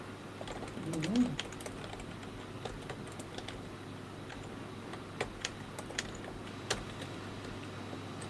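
Clicks of a computer keyboard being typed on, scattered sharp taps over a steady low hum, with a brief murmur near the start.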